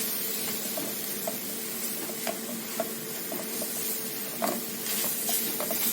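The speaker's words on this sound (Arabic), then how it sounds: "نقلبهم تقليبه كده سريعه، نشوحهم مع بعض." Steady frying hiss from a pan of onions being sautéed, with scattered soft clicks and scrapes of stirring, continuous and close, no voices.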